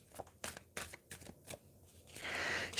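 A deck of playing cards is shuffled in a series of crisp riffling bursts, fairly close, ending in a longer hissy cascade as the cards bridge together.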